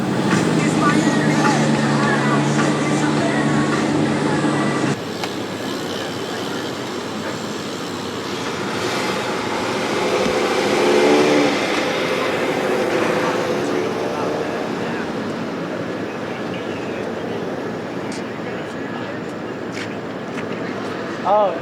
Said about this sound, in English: You can hear the cars go by, maybe hear some birds and maybe some people talking.